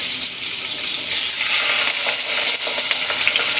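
Chicken frying in a small amount of cooking oil for a simple sautéed vegetable dish, giving a steady, close sizzle with bursts of crackling and popping that swell partway through, no voices.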